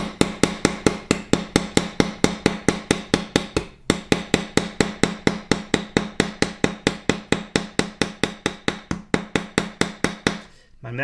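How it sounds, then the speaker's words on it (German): A hand-forged hammer peens a rivet in a steady, rapid series of sharp metallic blows, dozens of close, evenly spaced strikes with one brief pause partway through. "Ich habe hier einen ganz netten Hammer, mit dem arbeite ich echt am liebsten."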